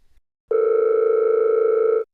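A steady telephone dial tone while calling a number, sounding loud and unbroken for about a second and a half after a brief silence, then stopping cleanly.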